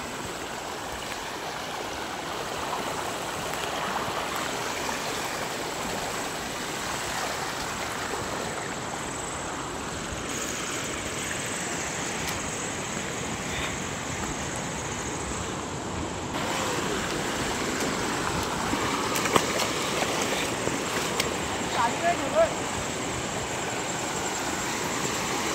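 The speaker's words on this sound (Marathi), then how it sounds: "सध्या नदीला पाणी खूप आलंय," A village river runs full after heavy rain, giving a continuous rushing wash that stays steady and grows slightly louder toward the end, with no talk.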